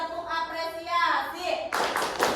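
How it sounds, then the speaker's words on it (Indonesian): Brief burst of rhythmic group clapping from a classroom of children, following a teacher's spoken praise; the clapping enters near the end, loud and close, with speech beforehand. "Yuk, kita kasih tepuk apresiasi"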